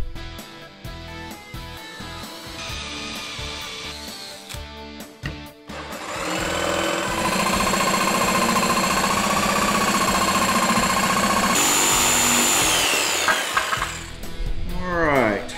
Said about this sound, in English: I'm going to cut some pilot holes with my drill.